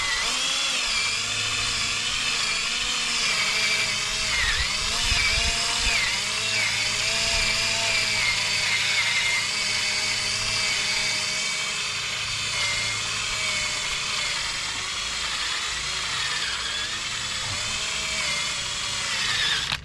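A battery-powered buffer pad rubbing polish into car paint, a continuous high whirring whine with a slowly wavering pitch, loud and close and steady throughout, with no talking.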